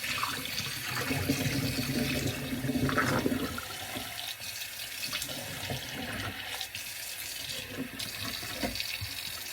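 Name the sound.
water from a tap rinsing something in a sink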